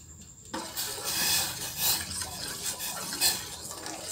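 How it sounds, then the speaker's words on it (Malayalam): A spoon stirs milk and condensed milk into a sweet sauce for a tres leches cake, making a soft, continuous scraping and swishing against the bowl after a brief quiet start. "ഇത് നന്നായിട്ട് മിക്സ് ചെയ്ത് ഒരു സോസ് പോലെ ആക്കിയെടുക്കാം."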